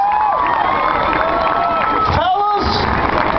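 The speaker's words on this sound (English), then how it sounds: "let's give the girls a round of applause" A crowd at a church festival event cheers and claps for a group of girls, excited shouts and whoops rising over steady clapping throughout.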